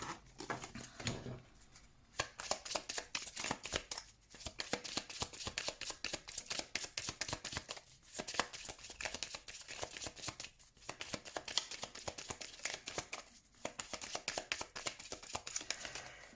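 Tarot cards are shuffled by hand for a reading, a dense, continuous run of quick papery riffles and flicks, close and fairly quiet, with brief pauses every few seconds.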